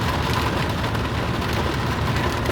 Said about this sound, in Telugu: వర్షం అయితే ఫుల్ పడుతున్నది, మీరు చూడొచ్చు ఒకసారి ఎంత పడుతున్నది వర్షం.